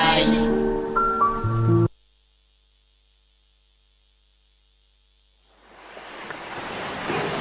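Ocean waves washing onto a beach swell in after a stretch of silence, a broad steady surf that follows a short burst of music at the start.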